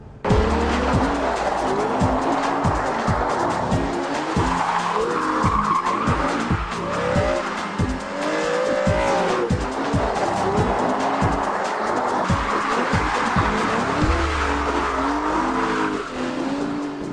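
An Aston Martin front-engine, rear-wheel-drive GT drifts with loud, sustained tire squeal and a revving engine rising and falling close by, with no talking.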